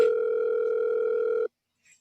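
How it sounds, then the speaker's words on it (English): A steady electronic telephone line tone signals an incoming collect call from a county jail, holding one loud, even pitch for about a second and a half before cutting off to silence. "I think the phone was ringing, wasn't it, Rusty?"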